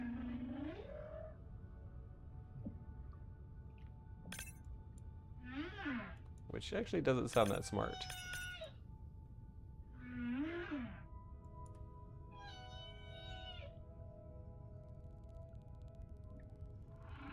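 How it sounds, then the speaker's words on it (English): Whale calls in the underwater game Beyond Blue: several deep, swooping moans and creaky clicking bursts, spaced apart and echoing over a low ocean hum, with a voice speaking briefly. "Nothing like chasing whales through a feeding area."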